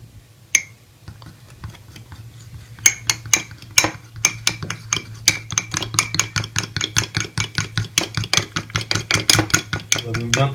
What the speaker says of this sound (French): On va donc bien tout mélanger.